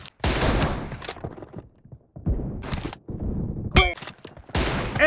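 Gunshots in the video game PUBG during a team deathmatch, several loud bursts of close fire separated by short silences, with a sharp metallic ring among them and no talking.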